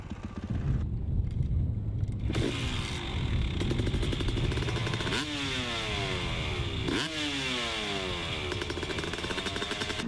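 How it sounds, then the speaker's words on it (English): A motocross dirt bike on a practice track in Leadville, Colorado revs and shifts through gears, its engine rising in repeated sweeping pitch climbs, loud and close, with clattering and no talk. "The bike might not sound like it's going really fast"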